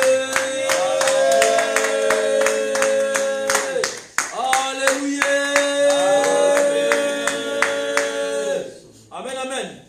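A church congregation claps in a steady, brisk rhythm while voices sing and acclaim together. The close, sharp hand claps repeat throughout, with a short pause and then a brief return at the end.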